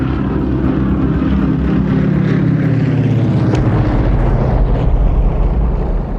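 An A-1E Skyraider, a World War II-era propeller dive bomber, drones loudly with a heavy, throbbing engine and propeller roar, holding steady and close.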